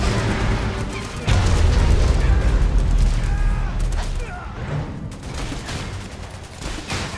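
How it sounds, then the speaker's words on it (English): A nuclear missile strike in the mobile strategy game Command & Conquer: Rivals, with a heavy booming blast and rumbling fire that keeps roaring over several seconds, mixed with crackling battle noise and synthetic game tones. "Nuclear missile launched."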